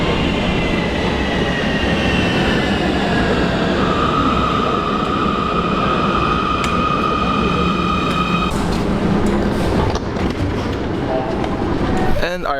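A Munich U-Bahn subway train runs steadily through an underground station, with a loud continuous rumble, sustained electric whine tones and rising wheel squeal near the end.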